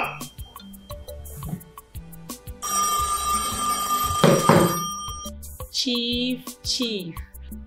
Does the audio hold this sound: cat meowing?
no